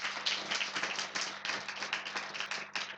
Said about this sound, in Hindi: प्रभु के लिए तालियां नहीं बजाएंगे?